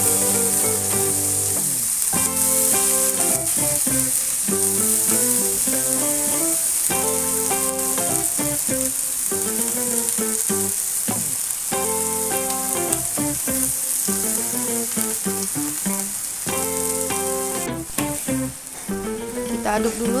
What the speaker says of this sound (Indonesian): Ini kita masukkan sayurnya